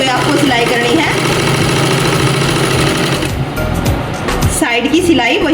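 A sewing machine runs a side seam on a pair of pants with a loud, steady mechanical whir and rapid needle chatter. It pauses briefly, then starts up again.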